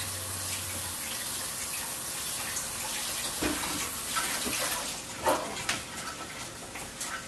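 A ginger grater rinsed under a running kitchen tap, a steady wash of water with brief clatters and splashes as the grater shifts in the stream, close and moderately loud, no talk.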